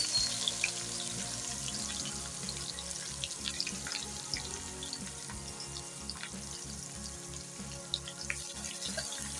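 Onions fry in hot ghee for mutton korma, a steady close crackling sizzle with fine spitting pops throughout and a faint low rhythmic hum beneath, with no voices.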